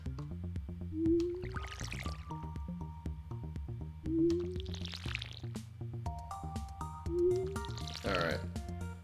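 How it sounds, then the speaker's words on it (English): Stardew Valley watering can splashing plants three times, each a bright watery pour with a rising glug, repeating about every three seconds over soft tonal game music. "And time to water the plants."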